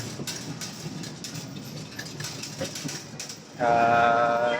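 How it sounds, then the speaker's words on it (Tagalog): An LRT light rail train rumbles and clatters along the tracks, with a loud tonal horn or signal sounding near the end. "Dito na sa LRT mga idol."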